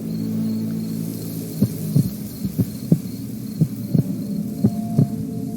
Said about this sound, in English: I need to steal that heartbeat